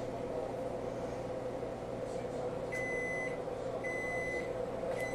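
A new microwave oven hums steadily while running, then gives two sustained electronic beeps close by near the end.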